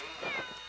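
A cat in Game & Wario gives one short, clear meow, brief and moderately loud, with a slightly rising then falling tone.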